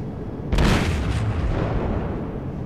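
A single heavy naval cannon salvo booms in World of Warships, a sudden loud blast followed by a rumbling decay over steady low engine and sea noise.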